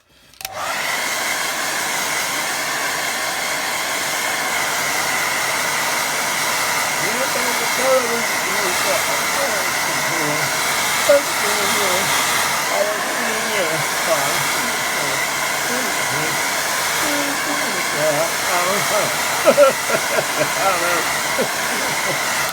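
A hair dryer blows steadily on wet watercolour paint to dry a layer of a lake-and-boats painting, a loud, continuous close-up whoosh that runs unbroken for over twenty seconds.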